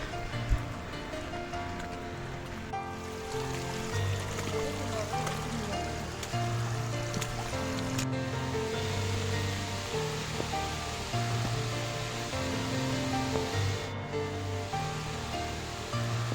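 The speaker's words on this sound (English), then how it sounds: "the whole trek was full of waterfalls and streams" Rushing water from streams and waterfalls on the Kudremukh Peak trek in Chikmagalur, Karnataka, on a rainy day, a steady, full roar that continues throughout.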